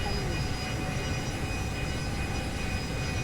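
Aircraft engine in Carrier Command: Gaea Mission, a steady, loud whining drone with a constant high tone that continues without a break.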